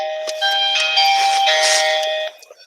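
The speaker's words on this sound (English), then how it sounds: "Sorry. The doorbell." A doorbell chimes indoors with sustained bright ringing tones lasting about two seconds, fairly loud and alone before fading out.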